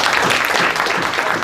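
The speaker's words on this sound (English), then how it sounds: "We can applaud everyone." A workshop audience on generative AI in higher education claps together in a dense, even burst of applause, close and sustained for just over a second.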